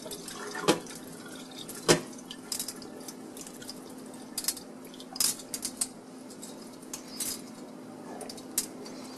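Cooked millet being strained, with scattered water drips and small clinks of a strainer or pot sounding irregularly over a faint background hum, no talk.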